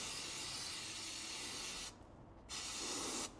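Water sprays from a hose onto a Porsche 996 in a steady, loud hiss that cuts off briefly twice before resuming.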